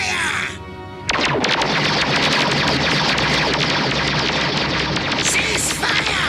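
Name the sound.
cartoon gunfire from G.I. Joe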